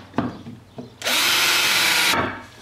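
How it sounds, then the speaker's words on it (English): A power drill bores pilot holes for screws in soft wood on an antique wooden boat's transom, with a few short taps and then a loud, close, steady whine lasting about a second before it winds down. "I'm just going to drill the holes where I'm going to put the screws."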